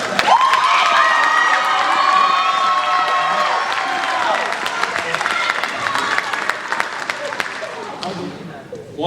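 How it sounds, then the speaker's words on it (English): A crowd at a high school spring band concert applauds and cheers for the seniors, with loud sustained clapping, whoops and shouting voices that slowly thin out toward the end. "One big round of applause for all the seniors."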